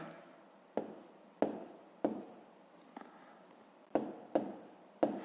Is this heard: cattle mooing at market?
no